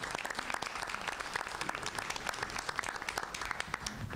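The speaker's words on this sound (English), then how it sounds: "So we can just give them a big round of applause for their work." A school board meeting crowd gives applause for the band's section leaders, a fairly quiet but continuous patter of clapping hands from a modest group in a room.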